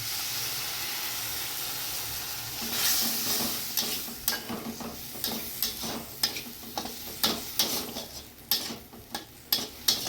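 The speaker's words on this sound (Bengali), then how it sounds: "সুন্দর তেল ছাড়া পর্যন্ত কষিয়ে নেবো বন্ধুরা।" Ground spices frying with ginger, garlic and onion in oil, a steady sizzle under repeated scraping stirs that grow sharper and more frequent, close up with no talking.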